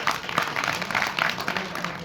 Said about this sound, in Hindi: ऐसे दानदाताओं के लिए जोरदार एक बार ताली होना चाहिए